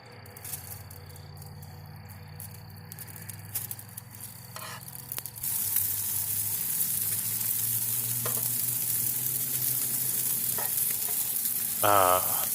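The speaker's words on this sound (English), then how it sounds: "Doesn't that sizzling sound just make you hungry?" Faint background gives way to a steady, crackling sizzle of chicken cooking on a hot grill, continuous and fairly close, with no voices.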